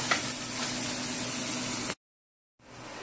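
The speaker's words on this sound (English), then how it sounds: "the onions and the scallion and the garlic has been sauteing" Onions, scallion and garlic sauteing in a pan for stir-fried shrimp ramen, giving a steady loud sizzle for about two seconds before cutting to silence, then the hiss returning more softly.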